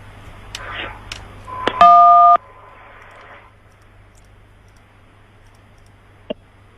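Keypad button presses on an automated phone line: a few sharp clicks, then a loud steady touch-tone beep lasting about half a second, followed by quiet line hiss and one more faint click.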